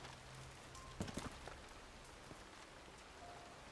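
Steady rainfall pattering on surfaces in the RedM western roleplay game, a constant hiss with a few brief louder taps near the start, no talking.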